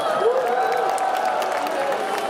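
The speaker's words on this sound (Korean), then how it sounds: "다시 한번 박수 부탁드릴게요" Steady applause and cheering from a large crowd at a Hongik University outdoor festival concert, continuous and dense with scattered whoops, filling the whole stretch without pause.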